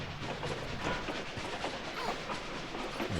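A train in the video game Tomb Raider IV Remastered gives a steady rolling rumble with faint clattering of the carriages, continuous and close, with no voices.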